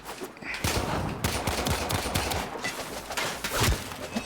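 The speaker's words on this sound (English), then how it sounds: "Who's shooting at me?" Rapid gunfire from the video game Warframe crackles in dense, repeated bursts throughout, fairly faint and steady with sharp individual shots standing out.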